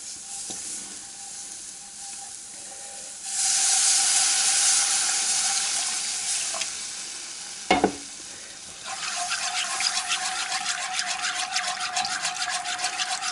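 Beef broth is whisked into a cast iron pan, first a quiet bubbling, then a louder rush of liquid and a sharp clank, followed by rapid rhythmic whisking and sizzling up close with no speech.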